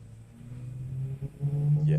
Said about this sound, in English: I'll try accelerating in second gear again